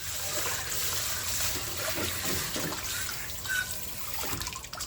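Warm water trickles and splashes during hand dishwashing in a sink, a continuous soft close-up flow with small drips and clinks.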